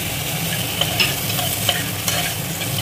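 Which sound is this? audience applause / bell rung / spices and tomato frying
spices and tomato frying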